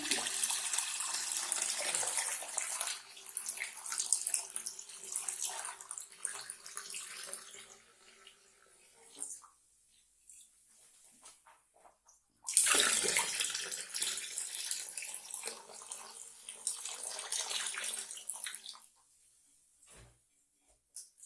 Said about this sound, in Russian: Далее наполняю ведро обычной водой.